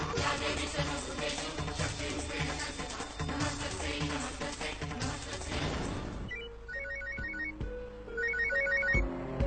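A telephone rings in a TV drama scene: after a stretch of loud background music fades, a pulsed electronic ringtone chimes in repeated bursts, clear and fairly close.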